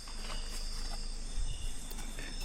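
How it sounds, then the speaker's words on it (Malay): Crickets chirp steadily through the night on a Trans Naning hike, a continuous high insect trill with faint rustles and footsteps of a hiking group nearby. "Sambil briefing ada cengkerik."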